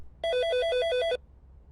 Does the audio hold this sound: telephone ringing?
yes